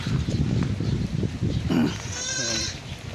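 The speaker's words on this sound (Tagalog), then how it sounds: "So ayan po yung mga kambing natin." Goats bleat nearby on a dry farm in Bulacan, one clear wavering bleat near the end, with murmured talk and rustling before it.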